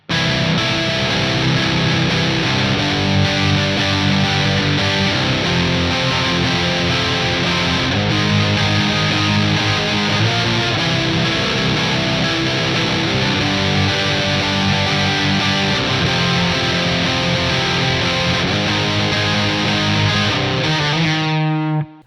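Heavily distorted electric guitar strums chorus chords continuously and loudly, a dense driving passage with no voices, ending abruptly.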